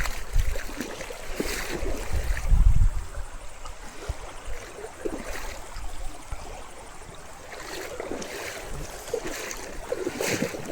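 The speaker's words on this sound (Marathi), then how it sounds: "बघा नदी कशी वाहत आहे" A river flowing strongly near a farm during the rainy season, heard as a continuous rushing, churning wash with intermittent gusts of wind, fairly close and without voices.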